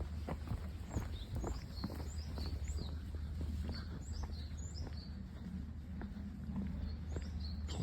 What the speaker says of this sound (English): Can you hear that? Little birds.